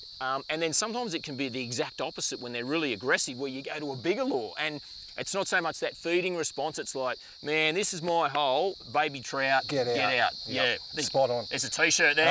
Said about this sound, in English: You can hear the cicadas in the background.